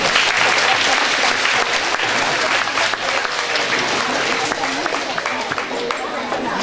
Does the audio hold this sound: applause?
yes